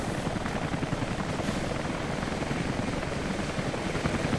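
A helicopter in Rise of the Tomb Raider: steady, loud rotor thrum and engine roar fill the whole stretch without a break, close and constant, with no voices over it.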